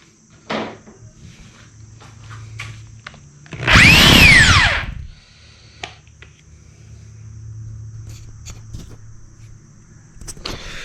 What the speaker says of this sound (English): So I'm going to finish drilling this hole and then I'll show you.